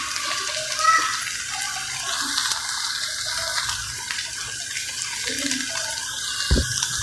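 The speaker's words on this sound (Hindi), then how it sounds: "फिर भुनाई करने के बाद हमने इसमें पानी ऐड कर देना है।" Water pours steadily into a pot of roasted dal for several seconds, a continuous splashing stream with a brief knock near the end; no one speaks.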